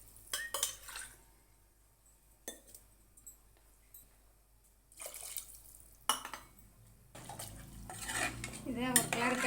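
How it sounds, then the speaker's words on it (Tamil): A spoon stirs rice and chicken biryani in a pressure cooker, with scattered clinks and scrapes of metal against the pot, separated by quiet pauses and ending in a busier stretch of stirring. "இதை ஒரு கிளறிட்டு கொதி வர்ற வரைக்கும் கொஞ்ச நேரம் மூடி வச்சிடலாம்."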